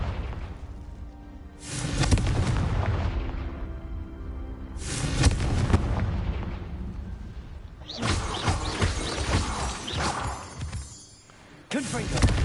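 Explosion spells land in a wizarding video game with booming blasts and crackling bursts. Several loud detonations arrive in separate waves, each followed by rumbling debris, with some voice mixed in.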